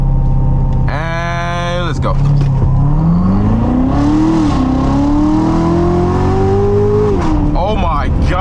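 Corvette engine held on the brakes at low revs, then launching hard in a 0 to 60 run with a loud rising roar that climbs steadily through the gear, close inside the car; a voice speaks briefly before the launch.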